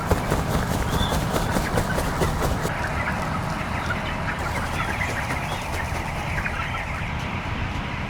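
A crowded flock of chickens on a large chicken farm clucks and calls continuously, a dense, steady chatter of many birds close by, with no talking.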